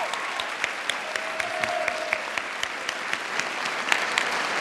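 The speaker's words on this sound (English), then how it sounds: "Please give them a round of applause." An audience at a mayor's jobs program event applauds employees and employers: a dense, steady wash of many hands clapping, moderately loud and sustained, with a faint voice briefly audible under it.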